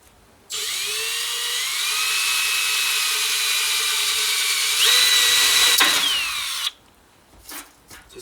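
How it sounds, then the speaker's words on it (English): A power drill whines steadily for about six seconds, close and alone, drilling a marked hole, its pitch rising near the end as the bit breaks through before it stops abruptly. "I've marked here where I want to drill it."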